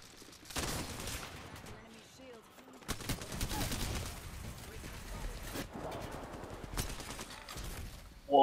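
Bursts of rapid gunfire in a duo match of a shooter video game, several loud volleys separated by short pauses, with players' voices talking over them.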